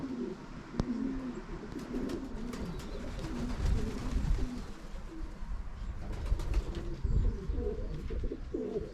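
Young homing pigeons back from a trial flight coo and flutter close by in a loft, with soft, repeated throaty calls and scattered wing claps and clicks over a steady outdoor background.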